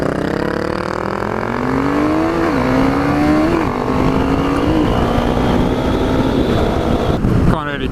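Yamaha sport motorcycles ride past on the road, their engines droning and revving with rising and falling pitch under heavy wind noise, loud and continuous, ending with a brief rustle.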